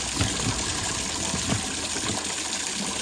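Fresh water gushing steadily from a hose or container for backyard chickens, a continuous splashing flow close by, with no voices.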